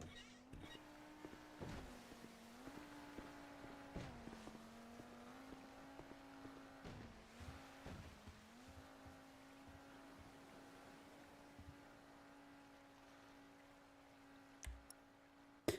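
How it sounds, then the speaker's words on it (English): A police boat from GTA roleplay passing by, its steady engine drone holding a constant pitch with slight shifts, faint and distant under occasional clicks and soft background noise. "I hear a police boat"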